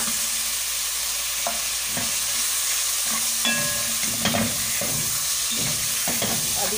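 Tomatoes and green chillies fry in a pan for achari moong dal, with a constant crackling sizzle punctuated by stirring scrapes and knocks of a utensil, no voices.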